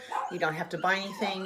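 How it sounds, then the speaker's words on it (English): Dogs bark and yip from another room of a house, several short barks mixed under a person speaking steadily close by. "So I apologize for the barking."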